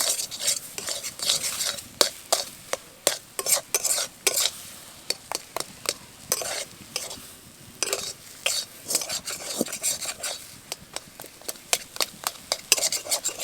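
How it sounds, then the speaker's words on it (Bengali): Semolina being stirred with ghee in a kadai for a fried sweet: a spoon scrapes the pan in quick, steady, close strokes over a soft continuous sizzle, with no voices. "এই সময় কিন্তু সুজিটাকে খুব ভালোভাবে নাড়তে হবে, যাতে কোনো রকম দলাভাব না থাকে আর যাতে কড়াইয়ের সাথে লেগে না যায়।"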